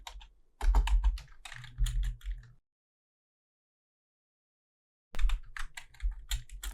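Close computer keyboard typing in two bursts of quick key clicks separated by a few seconds of complete silence.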